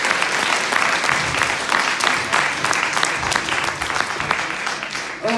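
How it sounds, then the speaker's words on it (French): An audience at a live hypnosis show in Carantec bursts into loud, sustained applause, dense clapping continuing for several seconds close by, with a brief voice cutting in at the end. "on peut l'applaudir aussi très fort"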